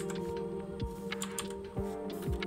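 Rapid computer keyboard key presses in After Effects, a steady run of crisp clicks close up with no talking, over a constant low hum.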